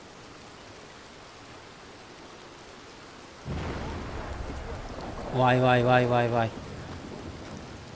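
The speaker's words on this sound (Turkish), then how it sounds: "Ne yağmur yağdı be." Steady rain, with possible thunder, in the video game Red Dead Redemption 2 starts abruptly and hisses on evenly, while a voice calls out repeatedly over it partway through.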